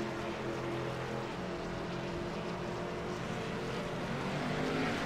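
A race car engine in 4th gear in the iRacing simulator at Chicagoland holds a steady, dense roar with no clear shifts, alone and fairly loud throughout.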